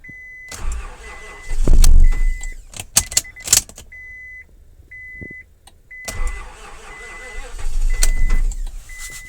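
Key cycled on a 2000 Honda car with a fuel problem: a steady series of short electric whirring pulses, like a fuel pump priming, plus clicks and clunks, with a couple of louder bursts of activity and faint talk.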